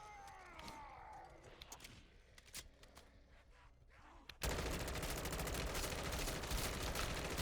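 Full-auto M16 rifle fire from Call of Duty Modern Warfare 3 Zombies erupts as a loud, dense continuous burst in the last three seconds, after quieter game sounds and scattered clicks.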